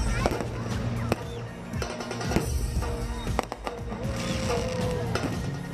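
Firecrackers burst during Diwali celebrations in America, sharp cracks and pops repeating irregularly over a busy, noisy outdoor crowd with voices mixed in.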